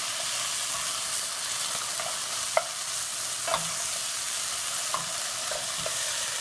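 A steady sizzling hiss of tomato sauce cooking in a pan for shahi paneer, with a few soft clinks of stirring now and then.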